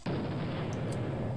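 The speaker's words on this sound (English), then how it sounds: "Nice little fireball right there." A fireball spell explodes in the Exile III: Ruined World video game, a sudden loud boom with a dense, rumbling roar that stays heavy and sustained for over a second, alone without talk.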